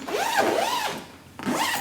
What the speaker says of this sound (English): So let's just zip that up